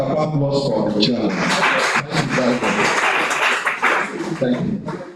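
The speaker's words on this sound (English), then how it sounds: "A round of applause for the chairman." Audience applause for the chairman at a commodities-exchange brokers' induction ceremony, a dense, sustained clatter of many hands clapping throughout, mixed with some chuckles and voices in the room.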